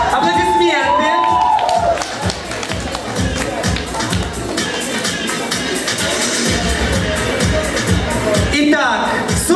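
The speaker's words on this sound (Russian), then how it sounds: "Аплодисменты." An audience at a children's Christmas vogue performance gives loud, continuous applause with cheering and whoops, while crowd chatter and voices run through it from start to finish.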